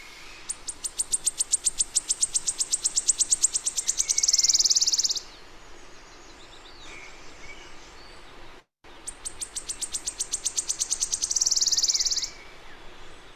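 A wood warbler sings twice, each time a quickening series of sharp high ticking notes that speeds into a shimmering trill, clear and fairly close, with a short pause between the two songs.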